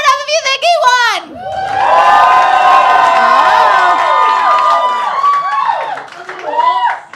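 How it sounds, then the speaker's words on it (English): A live comedy roast-battle audience erupts in loud, sustained cheering and shouting, with a sharp burst of voices at the start, a full roar for about five seconds, then a tapering of scattered calls. "Now clap it up if you think he won."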